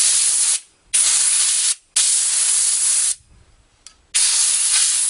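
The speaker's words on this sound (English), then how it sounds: "And then I take my air once again to clean out those holes." Compressed air blasts from an air nozzle clear out the oil holes on a chainsaw during basic maintenance: four loud, steady hissing bursts, each roughly a second long, separated by brief pauses.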